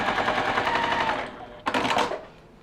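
A sewing machine stitches a quilted holiday pillow in a rapid, steady run of needle strokes, pauses briefly, then sews a second short, close burst.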